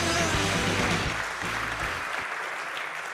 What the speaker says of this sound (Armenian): էլի բարձր ծափարություններ եմ ակնկալում